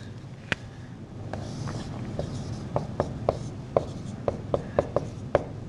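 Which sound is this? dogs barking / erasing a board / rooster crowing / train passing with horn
erasing a board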